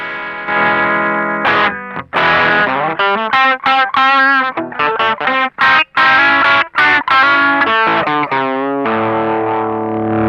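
An electric guitar plays through a Blackstar LT Metal amplifier with the gain off, giving a clean, undistorted tone, a run of chords and single notes with short breaks.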